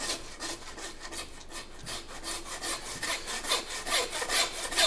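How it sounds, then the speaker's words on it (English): A handsaw cuts through a bison carcass at the base of the knuckle, separating sirloin from round, in a steady rhythm of rasping back-and-forth strokes at close range, with no voices. "and then I'll grab my handsaw"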